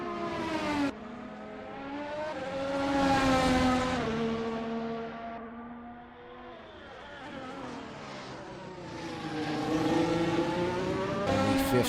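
A McLaren race car's engine screams through the laps at Suzuka in a racing video game, with a continuous high revving whine that climbs and falls through gear changes and corners, loud and up close.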